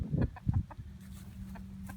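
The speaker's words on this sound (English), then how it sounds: "Just wanted to give you a little tour of your chickens on how they're doing." Chickens clucking close by, a few short, soft clucks and murmuring calls in quick succession, fairly faint against a quiet farmyard background.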